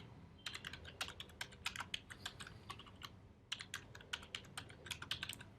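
Steady keystrokes on a computer keyboard while model names are entered during a Swift coding session, a quick irregular patter of clicks with one short pause midway, close and clear with no talking.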